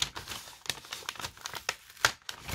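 Pretty decorative gift wrapping paper crumpled and torn open by hand, close and crisp, a steady run of crinkles with sharper rips throughout, no talking.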